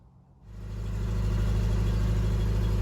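A classic car engine with a freshly fitted carburettor cranks briefly and catches, then settles into a loud, steady, close-up running rumble with no one talking.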